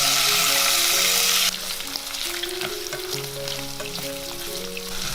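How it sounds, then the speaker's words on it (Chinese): Pork belly sears in hot oil in a wok, giving a loud burst of sizzling that settles into steady crackling frying with faint clinks, and no voices. "重新起锅热油，把五花肉放进来，煎到表面金黄。"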